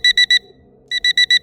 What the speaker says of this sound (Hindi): सुबह अलार्म बजा।